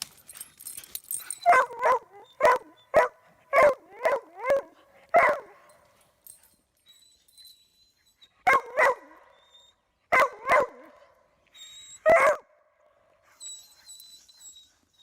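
Spud, a dog who chases rodents and tree squirrels, barks in loud close bursts: a quick run of rhythmic barks, then scattered pairs and single barks separated by pauses.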